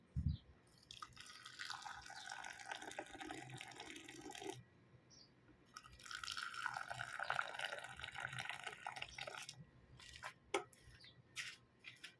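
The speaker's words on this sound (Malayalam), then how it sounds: "ഇതിലേക്ക് ചൂടുവെള്ളം ഒഴിച്ച് കൊടുക്കാം. തിളച്ച വെള്ളം." Boiling water poured into a glass over butterfly pea flowers, making two splashing, trickling pours of a few seconds each with a brief pause between them, close up with no talk.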